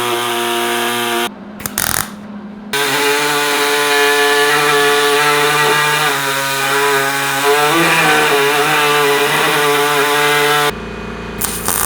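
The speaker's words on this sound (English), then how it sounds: "So now I will just trim the rocker panel itself with my saw" A power saw trims the rocker panel on a Chevrolet Nova during rust repair, giving a loud, steady, buzzing cutting drone for most of the stretch, with a brief pause near the start and the tool stopping at the end.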